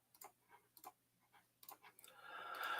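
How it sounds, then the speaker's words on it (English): Faint, irregular clicking from handled toys ticks away in a quiet room, several light taps in loose rhythm, giving way to a rising hiss at the end. "There's a lot of clicking happening."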